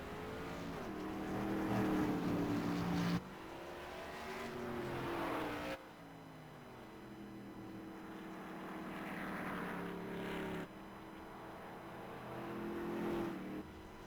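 Tour Modified race cars roar around a short track in the iRacing video game, their engines rising and falling in pitch with each lap as several cars pass close, fairly quiet overall with abrupt cuts between camera views.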